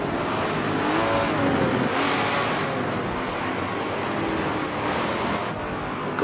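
Race car engine in the video game Forza Motorsport 7 at Infineon Raceway, roaring steadily and loudly throughout the lap with shifting engine pitch and no talk over it.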